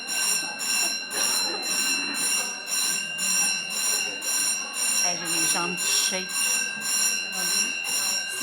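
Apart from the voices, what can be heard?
fire alarm ringing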